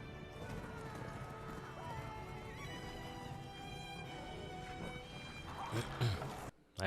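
The horses of Rohan gallop in a film battle scene, a steady rumble of hooves under swelling orchestral music and a horn, with some talking over it and a sudden drop near the end.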